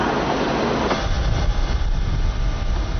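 A Portuguese passenger train passes near Lisbon, a loud, steady rumble of wheels and carriages that fills the whole stretch with no break.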